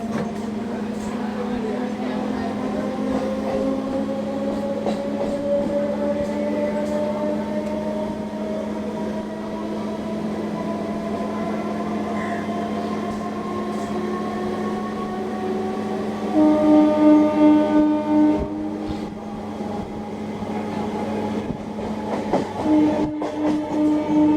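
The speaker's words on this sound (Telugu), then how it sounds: "కృష్ణా కెనాల్ నుంచి మన ట్రైన్ బయలుదేరింది" A MEMU train departs Krishna Canal junction near Vijayawada, bound for Ongole. Heard from on board, the electric traction whine rises steadily in pitch as it gains speed over a rolling rumble, with louder track clatter toward the end.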